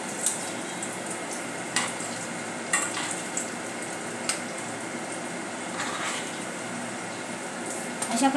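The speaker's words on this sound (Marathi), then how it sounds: "बघा तर फ्रेंड्स, अशा प्रकारे आपले रोल तळत आहेत।" Potato bread rolls deep-frying in hot oil over a low flame, a steady moderate bubbling sizzle with a few soft taps of a utensil against the pan, no voices.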